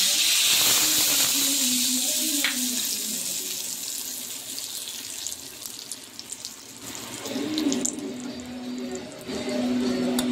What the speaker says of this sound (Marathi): आणि याला आपण व्यवस्थित असा तडका देऊन